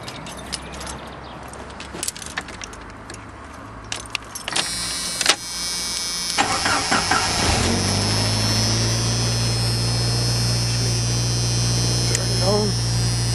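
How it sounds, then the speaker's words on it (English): A car engine fitted with an HHO setup on LPG cranks and starts, then settles into a steady idle with a constant low hum, preceded by keys jangling and clicks. "I will start the engine."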